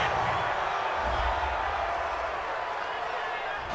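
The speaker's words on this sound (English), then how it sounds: "this crowd does not like that call" Stadium crowd in Madden NFL 20, Ravens versus Cardinals, groaning and booing after a roughing-the-passer penalty, a steady broad roar throughout with low rumbling swells near the start.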